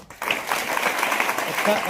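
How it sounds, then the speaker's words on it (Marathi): Audience applause for a fifth-grade girl who has just sung an abhang, a steady burst of clapping that starts abruptly and holds at even strength for the whole stretch. "टाळ्या वाजवा"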